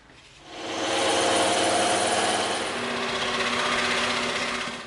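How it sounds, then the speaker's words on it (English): A bandsaw or scroll saw cuts through EVA foam, starting after a quiet moment and then running as a loud, steady mechanical buzz with a close, continuous whir. "Over to the bandsaw and the scroll saw."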